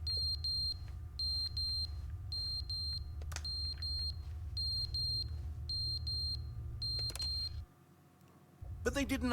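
A fallen clock in the video game The Stanley Parable beeps in repeated short high-pitched bursts of three or four tones, steady and fairly faint over a low ambient hum, then stopping near the end.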